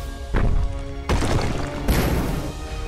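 Earthbending effect in an Avatar visual novel: three heavy crashing thuds, each a loud rumbling impact of rock that lingers and overlaps into the next, close and without talk.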